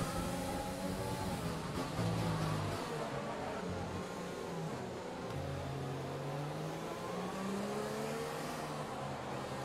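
Formula 1 car engine in F1 2020 accelerating, a high, buzzing racing whine rising and dipping through gear changes, steady and prominent across nearly ten seconds with other cars faintly around.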